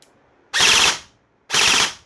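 An airsoft gun fitted with an ASS MOSFET fires two loud full-auto bursts, each a dense rapid rattle lasting about a third of a second, separated by a brief pause.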